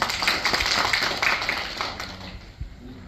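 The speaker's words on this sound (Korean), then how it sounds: "의원님께 다시 한번 큰 박수 부탁드리겠습니다." An audience at a provincial council forum on regional balanced development gives a round of applause that starts dense and thins out, fading away toward the end.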